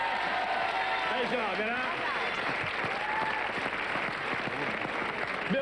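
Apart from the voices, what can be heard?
audience applause for Gérard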